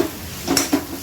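Onion browning in a pan with ginger and garlic for egg biryani. A soft continuous sizzle is broken by two quick scraping stirs near the middle, with nobody talking.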